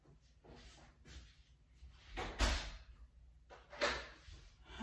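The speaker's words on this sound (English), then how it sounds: "Shut the big door and lock it." A big door is shut and locked indoors: soft bumps and rustles lead into a firm thud, then a second knock follows a little later, fairly close and quiet with no talking.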